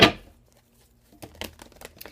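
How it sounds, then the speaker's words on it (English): A deck of tarot cards being shuffled: one sharp crisp flick at the start, a pause, then a run of soft papery riffling rustles, close and quiet. "let's go ahead and shuffle the cards just a few more times"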